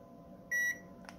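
A digital thermometer gun gives one short, clear electronic beep, close and bright against a quiet background, followed by a faint tap.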